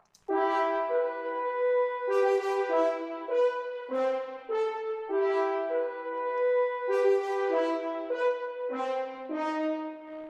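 An orchestral horn section soloed on its Cubase bus, playing a bold, proud melodic line of sustained and moving notes, full and steady in level with no talking.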